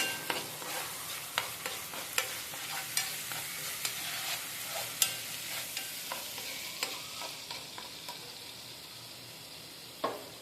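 A spicy evening snack mixture coated with tomato sauce, chilli powder and salt is stirred in a pan over a faint sizzle, with a regular series of sharp scrapes and taps about once a second.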